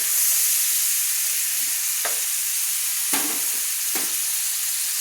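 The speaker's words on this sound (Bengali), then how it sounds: "তাই আমি হাই স্পিডে দিয়ে 15 থেকে 20 মিনিট চিংড়ি মাছগুলো ভেজে নিচ্ছি" Prawns fry hard over high heat in a pan for aloo chingri, a dense steady sizzle with three sharp stirring scrapes spaced a second or so apart.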